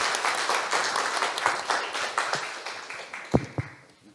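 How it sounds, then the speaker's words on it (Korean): Audience at an international water forum keynote applauds to welcome a speaker; close, dense clapping gradually thins to a few last scattered claps before it dies away. "큰 박수로 맞이해 주시기 바랍니다."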